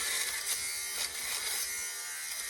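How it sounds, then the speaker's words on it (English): An electric sweater shaver buzzes steadily across knit fabric, clearing pilling from the inside of a sweater, a continuous close high-pitched whir with slight pulses as it passes over the material. "I'm actually just gonna take a quick sweater shaver to it."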